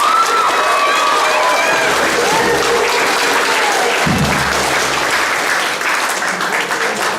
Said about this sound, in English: let's give them one last big round of applause.